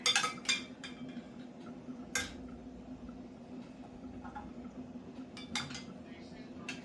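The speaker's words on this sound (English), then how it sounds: "I'm just moving it to this pan here." Stewed beef ribs being shifted into a pan, with a few sharp clinks and scrapes of utensils against cookware early on and again near the end, faint and close, while a person talks softly under it.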